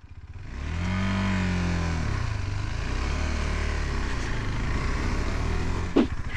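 A KTM 390 Adventure single-cylinder motorcycle on an off-road ride, its engine rising in a rev then holding a steady, close drone with a brief sharp noise near the end.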